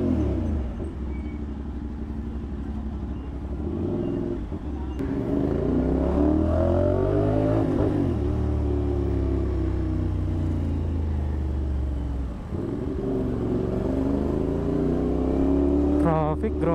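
Road traffic heard from an e-bike in the Philippines: steady rumbling engines and revving vehicles close by, continuous throughout, with brief talk over the noise.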